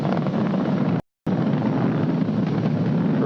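Falcon 9 rocket engines roar during ascent as the vehicle goes supersonic. The sound is a loud, continuous, broadband rumble, broken once by a brief cut to silence.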